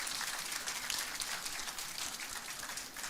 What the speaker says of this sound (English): If we can have a round of applause for our panelists and you for all